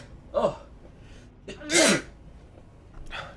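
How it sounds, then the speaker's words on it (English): A person sneezes twice, a small sharp sneeze and then a louder fuller one a moment later, followed by a short breathy exhale, close and clear. "I'm gonna sneeze."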